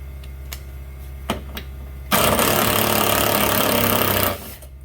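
Impact gun spinning off a tailgate lift prop bolt, a loud continuous whirring burst of about two seconds after a few light knocks, close up with no talk.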